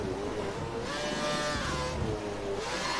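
A Formula 1 car in F1 2013 roars at high revs, its engine pitch climbing and dropping through rapid gear shifts in a loud, continuous racing drone.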